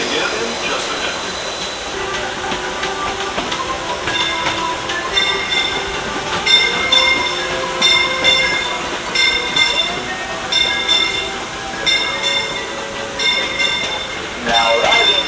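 A Disneyland train ride heading to Tomorrowland Station: the rail car's steady rumble and wheel noise run throughout, with faint metallic squeals and clicks, while a voice keeps talking over the ride.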